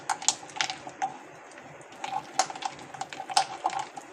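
Ghevar batter for a Rajasthani sweet is beaten by hand in a bowl until it turns white like butter, giving soft intermittent clicks, taps and wet scrapes at a fairly low level.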